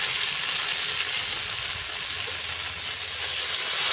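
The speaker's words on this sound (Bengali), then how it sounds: "বন্ধুরা এই দেখুন আলু বেশ ভালো করে কষিয়ে নিয়েছি এখন জল দিয়ে দেব" Water hitting a pan of sautéed potatoes, a loud broad steady sizzle that hisses continuously without a break for several seconds, close and alone.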